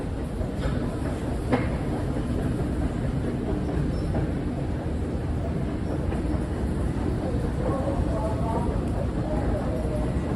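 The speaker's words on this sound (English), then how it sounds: "This is the 34th Street Herald Square subway station." A train rumbling through the 34th Street Herald Square subway station in New York City, a loud continuous low roar with faint squeals and clatter, heard close throughout with people talking nearby.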